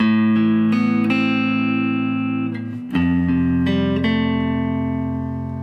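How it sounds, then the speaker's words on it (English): A clean electric guitar picks a ringing arpeggiated riff, notes sustaining and overlapping, with a chord change midway and no voices. "The first part of the song starts off with this classic riff and it sounds like this."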